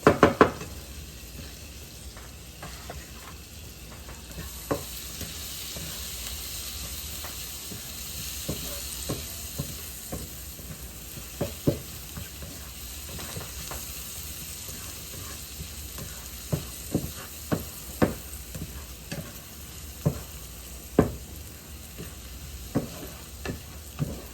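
Pork chops sizzle in a frying pan alongside garlic and scallion whites, a soft steady hiss marked by frequent sharp knocks and taps of a utensil against the pan.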